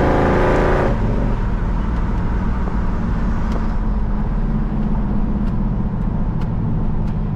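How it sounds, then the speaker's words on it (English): A powerful 1968 Chevelle SS engine roars steadily close by, with a quick surge at the start as it pulls away; no clear tire squeal stands out. "Takes right off, chirps the tires"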